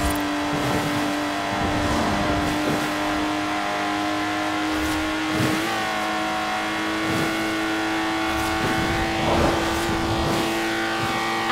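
Lotus Exige engine in a Forza Horizon 4 race: a loud, sustained high-pitched roar that rises and drops through repeated gear shifts, with rev surges and occasional tire noise.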